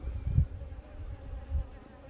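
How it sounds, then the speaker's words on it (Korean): A swarm of oriental honeybees hums at an apiary, a low steady buzz with a couple of louder close passes as individual bees fly by. "벌도 없는데 벌이 엄청나게 많은 것 같은 웅웅거린다는 얘기죠"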